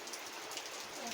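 Heavy rain falls steadily, a soft, even hiss of downpour that holds constant through the brief stretch with no other distinct sounds.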